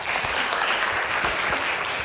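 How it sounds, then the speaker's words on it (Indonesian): A class of pupils applauds, a brief burst of many hands clapping in a steady, even patter at moderate volume, with no one speaking over it. "Tepuk tangan buat kalian."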